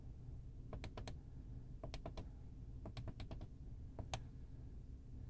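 Keypresses on a Genmega ATM keypad during host setup, in four quick bursts of two to five sharp clicks each, close and distinct over a steady low hum.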